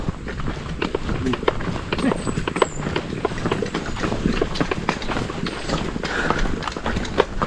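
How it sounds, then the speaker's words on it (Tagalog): Horse hooves clip-clop in a steady, quick rhythm under background noise, with people talking throughout. "Kabayo."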